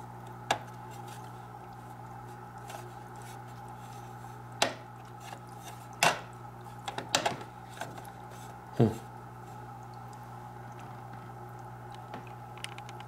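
A Whisper EX45 hang-on-back aquarium filter runs with a steady low hum and a watery trickle. Scattered clicks and clinks, like glass or utensils being handled nearby, sit on top of it.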